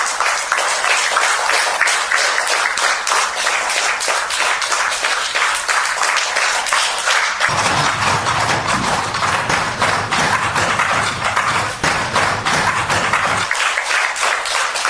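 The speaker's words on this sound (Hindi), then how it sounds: "ये देखिए, तालियों के साथ।" Steady, dense applause with rapid hand clapping at a cabinet meeting honoring Prime Minister Narendra Modi, joined midway by a deep rhythmic thumping of hands on tables for several seconds, loud and continuous throughout.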